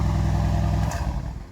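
A 2021 Mercedes-AMG GLC 63 in Brilliant Blue with its stock exhaust valve opened gives a loud, deep, rumbling engine note up close, holding steady before easing off in a short burst.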